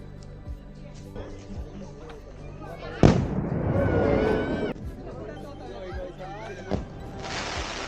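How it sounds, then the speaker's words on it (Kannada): Firecrackers and fireworks go off at a temple festival at Sri Nanjundeshwara temple, Nandigunda: a sharp loud bang followed by sustained crackling and whistling, with more pops, all over a crowd chattering nearby. "ಮುಂದೆ ಆರಂಭ ಆಗುವಂಥದ್ದು ಪಟಾಕಿ ಪ್ರದರ್ಶನ. ಸೌಂಡು ಹೇಗಿದೆ ಅನ್ನೋದನ್ನ ನೀವೇ ಒಂದ್ಸಲ ಕೇಳಿ."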